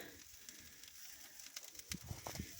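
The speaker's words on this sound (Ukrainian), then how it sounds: "Вон як шкварчить." Quiet, steady sizzling of duck frying in a pan, with a few soft pops and crackles.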